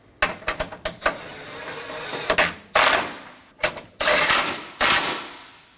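Ratcheting tightens two 13mm bolts on the radiator support bars of a 2011 Dodge Durango 5.7L V8: several quick ratchet clicks, then bursts of rapid clicking, close and loud, with no talk.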